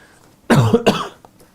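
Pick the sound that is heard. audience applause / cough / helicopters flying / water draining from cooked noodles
cough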